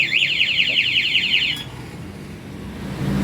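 An anti-theft remote alarm on a Benelli Keeway Shiny 150 motorcycle shrieks in a fast, rapidly warbling electronic siren for about a second and a half, then cuts off abruptly, leaving low background rumble.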